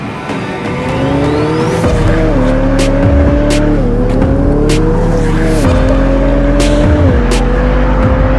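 A McLaren 720S with a 4-litre twin-turbocharged V8 accelerates hard through several rising gears on an open road. The engine note climbs, falls at each shift and climbs again, loud and close, with sharp pops and crackles over the engine.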